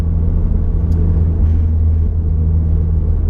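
Honda Accord Type S CL9 being driven on the road, a loud, constant low engine and road rumble heard from inside the cabin with no change in pace.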